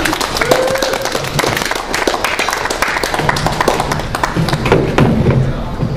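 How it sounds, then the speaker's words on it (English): Audience at an open mic welcomes a regular performer with clapping, a dense steady patter of many hands with a few thumps, filling the room at close range for several seconds. "Everybody clap it up."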